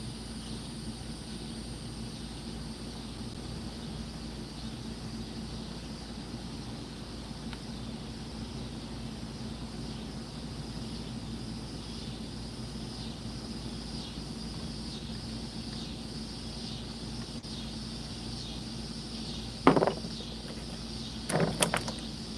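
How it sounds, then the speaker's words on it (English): Cicadas drone steadily outdoors in a pulsing, high insect buzz that runs through the whole stretch, with a couple of brief sharp knocks near the end. "Yeah, the cicadas, man."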